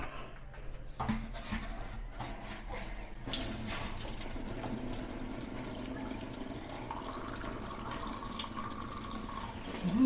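Water runs steadily through a washing machine drain hose into a sink, a quiet continuous flow with splashing and a few dripping clicks, no talk.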